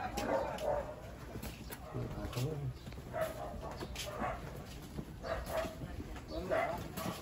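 A dog barks repeatedly in short bursts at a distance, with people talking nearby in the background.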